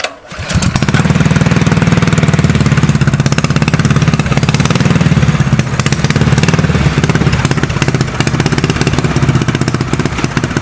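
A small engine on a custom mini trike, its choke lever removed, catches and runs loud and close with a rapid, even chugging idle that holds steady throughout.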